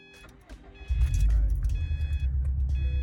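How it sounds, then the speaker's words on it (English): A used car's engine cranks and catches during an inspection: quiet clicks and a faint chime first, then the engine fires and settles into a loud, close idle rumble. "So what we're going to do is we're going to start the car."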